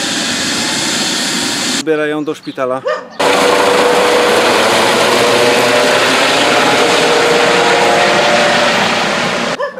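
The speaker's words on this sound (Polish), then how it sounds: "Przyleciał helikopter" A loud, continuous helicopter rotor-and-engine roar fills the scene at a horse endurance ride, broken briefly by a person speaking, then returning steady and close.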